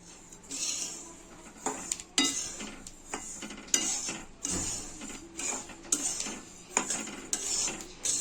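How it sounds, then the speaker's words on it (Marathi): Sesame seeds roasting in a pan, stirred with a utensil that scrapes and clinks against the metal in repeated bursts, close and fairly quiet, with the dry rattle of seeds between strokes. "हे पहा आपले तील असे छानपैकी भाजून होत आहेत"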